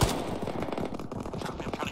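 Enemy fire team gunfire in Arma 3 crackles as a loud, rapid string of shots close by, a steady rattling burst that runs through the whole moment with no speech.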